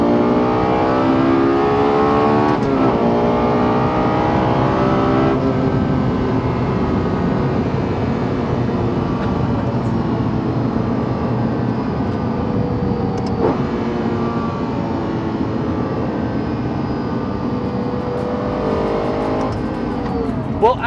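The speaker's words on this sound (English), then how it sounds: "I hope you have enjoyed listening to the LFA as much as I have enjoyed driving this car" Lexus LFA sports car, one of 64 built, heard from inside: a loud, continuous engine roar with rising and falling revs and a steady, dense tone throughout.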